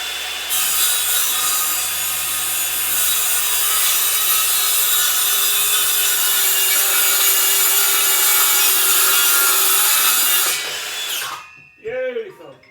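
Saw cuts through clamped wood in a long, steady, loud rasping stroke for about ten seconds, then stops abruptly, followed by brief speech.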